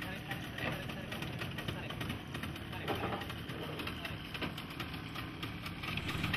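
Steady chugging engine of a boat moving along a river in Gorontalo past clumps of drifting water plants, a continuous close rumble with noisy wash throughout and no speech.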